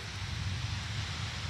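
Wind during a thunderstorm in Waukee, Iowa, a soft, steady rushing hiss with low rumbling gusts buffeting the microphone, faint and continuous with no voices.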